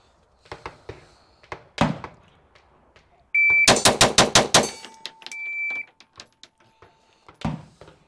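Staccato XC pistol fired in a rapid string of about six sharp, closely spaced shots at a shooting range, preceded by a timer beep and scattered thunks and clicks, up close with no talking.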